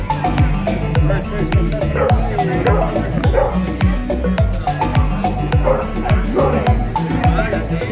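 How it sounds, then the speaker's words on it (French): Many dogs at a dog festival park, a dense chorus of repeated barks and yips from several animals near and far, with people's voices mixed in the background. "Regardez tous les chiens."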